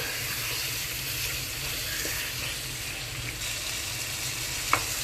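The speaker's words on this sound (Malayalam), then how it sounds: "ഞാൻ ചിക്കൻ ഇട്ടതിന് ശേഷം ഇങ്ങനെ ഇളക്കിക്കൊണ്ടിരിക്കുകയാണ്" Chicken curry with meat masala being stirred in a pan, a continuous sizzle with soft scraping of the spoon, one sharper clink near the end, no talk.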